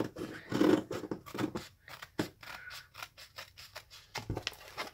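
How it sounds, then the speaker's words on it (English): Scissors cutting through canvas along a pencil line, a close series of crisp snipping and crunching cuts in an irregular rhythm, alone without talk. "we're going to cut kind of right down this line"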